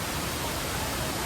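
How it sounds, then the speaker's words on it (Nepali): Okhreni waterfall in Nepal roars as a continuous, dense broadband rush of falling water, steady and close with no break. "यही झर्ना हेर्नलाई हामी चाहिँ आएको"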